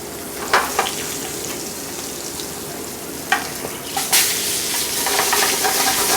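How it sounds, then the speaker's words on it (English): Asparagus sizzling and charring under a broiler, a steady hissing fry with a few sharp crackles and pops rising louder toward the end. "Now I'm going to put the asparagus into the broiler,"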